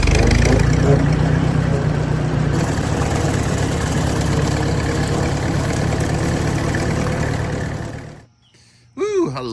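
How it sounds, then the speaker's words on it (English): An old Ford tractor engine idles loudly and close with a steady low chugging for about eight seconds, then cuts off abruptly into brief silence before a short burst of other noise. "I love that old Ford tractor"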